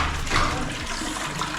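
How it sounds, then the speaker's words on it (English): A toilet flushes in the bathroom of a boutique dive resort villa in the Philippines, a close, loud, continuous whoosh of rushing water filling the short stretch without pause. "Toilet works."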